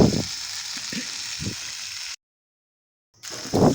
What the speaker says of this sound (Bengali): অনেকক্ষণ ধরে আমরা কষিয়ে নিচ্ছি যত কষবে তত টেস্ট হবে